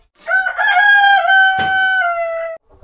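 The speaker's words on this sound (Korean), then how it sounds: "달걀 훔치 갔다고 꼬꼬대거리네." A chicken lets out a single loud, drawn-out crow of about two seconds with a clucking catch near the start, close by with no talking.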